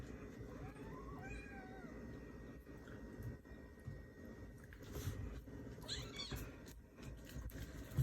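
A kitten gives several soft, faint meows while playing with a puppy, scattered over a quiet indoor background with light rustling.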